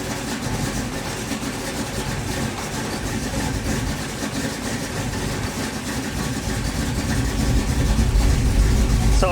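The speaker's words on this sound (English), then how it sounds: "And that's pretty much just how it idles, especially this one with rideable cam." A car engine with FiTech fuel injection and a big, lumpy cam idles steadily, a continuous low rumble with a slight uneven lope that grows a little louder toward the end, with no talking.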